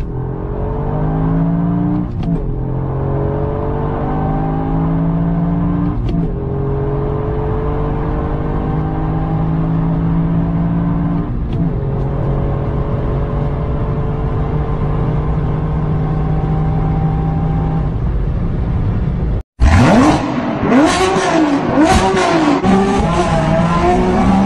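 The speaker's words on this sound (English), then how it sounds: "Toyota Yaris Gr top speed acceleration test 0 to 200 km per hour" A Toyota Yaris GR engine revs hard through repeated rising gear pulls accelerating from 0 to 200 km/h, each ending in a brief shift dip, then roars louder and harsher near the end.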